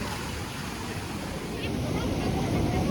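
Rough sea surf crashing at the beach at Puri during high, swelling waves, a loud continuous roar of broadband wash with wind buffeting the microphone, steady and close throughout.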